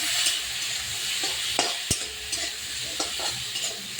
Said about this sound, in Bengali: এবার উচ্ছে যে জলটা, এটা আস্তে আস্তে টানবে, ভাজতে হচ্ছে